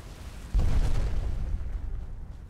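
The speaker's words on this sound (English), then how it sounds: "What's that explosion?" A deep explosion goes off in the video game Skyrim, a sudden booming burst that hits hard and then rumbles and fades away over the following seconds.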